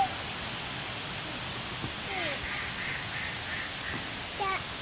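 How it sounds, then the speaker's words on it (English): A duck quacks several times, faint and brief, over a steady noisy background, with little else standing out. "That's a duck, you're right."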